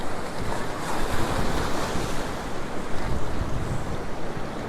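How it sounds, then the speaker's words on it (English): Ocean waves surge and crash over rocks at Currumbin Beach, Queensland, a loud, continuous roaring wash of surf mixed with gusty wind noise on the microphone. "Sort of watching the waves out the back and just waiting for that nice big one to sort of come through."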